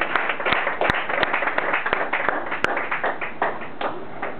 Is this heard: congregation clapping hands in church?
yes